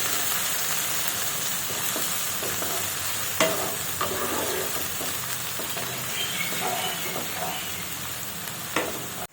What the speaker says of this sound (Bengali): এখন আমি দিয়ে দেবো পেঁয়াজ বাটা।